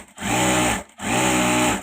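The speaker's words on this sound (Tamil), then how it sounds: "இப்போ நான் மேல் தையல் போட போகிறேன்." Electric sewing machine running top stitching, two close, loud steady whirring bursts each lasting under a second, separated by a brief pause, with no talking.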